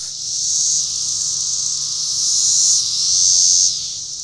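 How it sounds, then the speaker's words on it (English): Cicadas sing in a loud, continuous high-pitched buzzing drone that swells and eases in gentle waves, steady throughout with no voices. "It seems the song of a cicada is on a similar frequency as a public address system"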